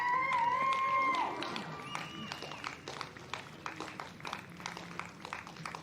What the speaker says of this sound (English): You can hear cheering from the crowds.